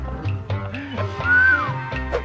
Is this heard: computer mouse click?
no